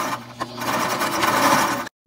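A sewing machine stitches across the end of a fabric face mask sewn from a pillowcase, running in a steady, close mechanical whir before stopping abruptly.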